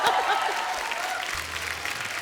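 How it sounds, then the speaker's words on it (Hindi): Studio audience applause for actress Ayesha on a comedy talk show, a steady dense burst of clapping with crowd noise throughout, fairly loud and without speech. "आयशा जी के लिए एक बार जोरदार ताली हो जाए."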